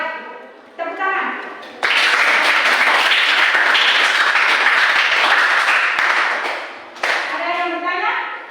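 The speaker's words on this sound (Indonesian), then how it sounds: "Baik, tepuk tangan." A classroom audience of students breaks into loud, dense clapping after a group presentation, sustained for several seconds between brief spoken remarks at the start and end.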